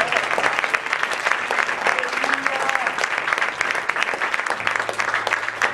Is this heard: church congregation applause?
yes